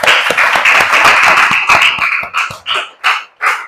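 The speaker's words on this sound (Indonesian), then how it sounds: "Mari kita berikan tepuk tangan sekali lagi." Classroom of students clapping for group presentations, a dense burst of applause that thins into a few scattered, separate claps toward the end.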